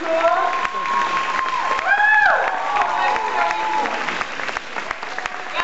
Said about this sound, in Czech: potlesk pro Karolínku